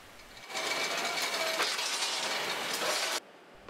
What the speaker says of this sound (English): The pallet is then moved along to our fully automated robotic steel machine.